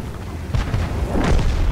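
A tank cannon fires in a video game, a single heavy booming blast with a rumbling tail that fills the short moment at close range.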